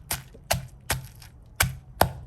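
Meat and shallots are pounded in a mortar with five evenly spaced, sharp thuds, each a crisp close knock with a short decay, and quiet gaps between the strikes.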